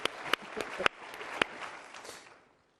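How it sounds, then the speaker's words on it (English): Audience at a CPAC political event gives a short round of scattered clapping, a few sharper claps standing out before it thins and fades to silence. "let's give them a round of applause"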